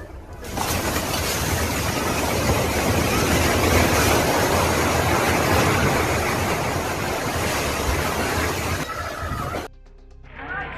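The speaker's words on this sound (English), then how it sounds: "calm waters turned violent waves rippled across the lake" Violent waves churn across a lake during an earthquake, a loud continuous crashing roar of water and wind that lasts about nine seconds and then suddenly drops away to quieter noise.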